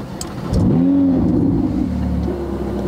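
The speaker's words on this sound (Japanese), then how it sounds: "それではエンジンかけていきたいと思います。" A car engine cranks and catches, then settles into a steady idle rumble after a brief rev, close by.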